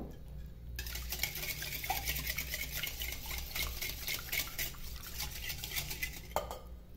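A whisk beats savory muffin batter with milk in a bowl, a quick, even rattle and scrape against the sides that runs for several seconds between quieter starts and stops, with no talking.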